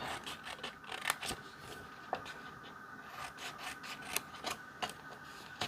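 Scissors cut paper for a fall scrapbook layout, producing a quiet run of sharp snips and soft rubbing swishes at close range, several distinct cuts spaced irregularly.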